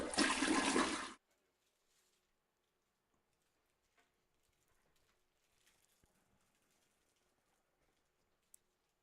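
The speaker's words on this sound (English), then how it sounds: "where's my toilet flush?" A toilet flush sound effect plays as a loud, roaring rush of water for about a second, then cuts off to near silence with faint clicks, during a live pool match broadcast.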